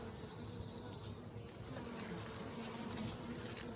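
Honey bees in a full hive buzz in a faint, continuous, dense drone that holds steady throughout with no talking.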